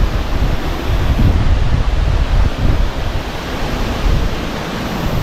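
Flood water crashes and rushes steadily at Khlong Lan Waterfall, a loud, dense, continuous roar mixed with gusting wind buffeting the microphone.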